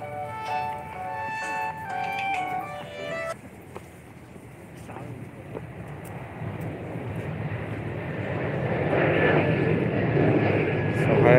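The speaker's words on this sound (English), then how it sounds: "The big issue of the sound of the airplanes, that is the biggest issue here." Airplanes fly over Hill-3 of DPU in Dalian, China, a broad roar that swells steadily louder toward the end after a stretch of tonal sounds and voices at the start.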